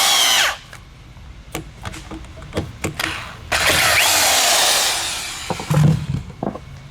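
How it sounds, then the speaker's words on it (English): A power drill whines in sustained bursts, interrupted by sharp clicks and knocks, with a long steady drilling stretch in the middle. "I need a better drill on this. This drill sucks."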